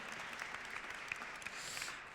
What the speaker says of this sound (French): un petit coup d'applaudissement